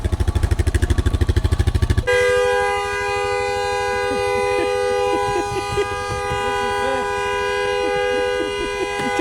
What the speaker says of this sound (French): J'ai voulu klaxonner, il est resté coincé.